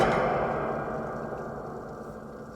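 A homemade spring contraption with a Quality Street tin as its resonator rings out in a single loud, echoing metallic wash that slowly decays over a couple of seconds, with no voices.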